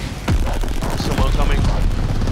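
Mortar strikes in a Call of Duty Vanguard multiplayer match, a dense barrage of booming impacts and gunfire rumbling continuously, with a voice speaking over the battle noise.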